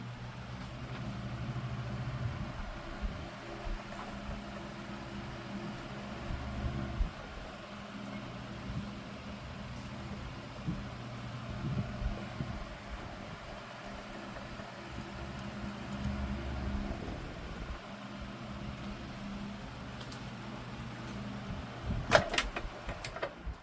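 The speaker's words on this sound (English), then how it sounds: "Now the bearings have been serviced, so it has a very decent spin down." A 1996 Holmes HAOF-1200 table fan with freshly serviced bearings hums steadily at low pitch, motor drone dipping and shifting as it runs and winds down, with a few small clicks near the end.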